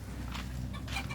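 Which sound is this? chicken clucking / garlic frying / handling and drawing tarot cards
chicken clucking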